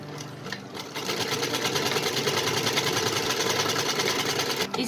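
A sewing machine runs a straight seam on a small doll's suit for Bal Gopal, starting after a brief pause and then holding a steady, fast, close rattling hum until it stops at the end.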